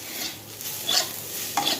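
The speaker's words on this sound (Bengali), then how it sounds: "মেথি শাক ভাজা।" Fenugreek leaves stir-fried in a pan give a soft sizzle, with a couple of brief scraping clinks from a spatula.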